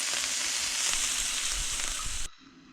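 Morel mushrooms frying in a pan give a loud, continuous hissing sizzle that cuts off abruptly near the end, leaving only faint room noise.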